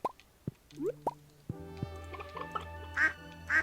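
Ducks quacking in the Stardew Valley farming game, several short quacks near the start alongside small plopping blips, followed by game chimes and musical tones, with no talking.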